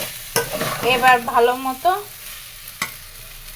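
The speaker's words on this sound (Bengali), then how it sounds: "চালটা ভেজে নিব।" Rice stir-fries in a pan with a soft, steady sizzle, broken by scraping stirs and a couple of sharp spoon knocks. Someone talks briefly over the cooking.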